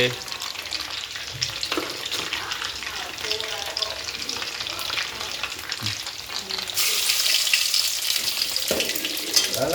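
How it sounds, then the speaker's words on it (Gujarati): Steady, dense sizzling of patties frying in hot oil, continuous throughout and growing slightly louder near the end, with occasional clinks of a utensil stirring. "પાર્ટી તળવાની તૈયાર થઈ ગઈ છે, તળાય છે"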